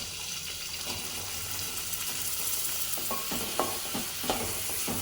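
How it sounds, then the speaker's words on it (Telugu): Chopped onions, two medium ones cut small, fry in a pan while being stirred for a tomato fenugreek curry, giving a steady close sizzle with occasional scraping clicks and no talking. "ఇలా మన ఆనియన్స్ ఫ్రై అవుతుండగానే"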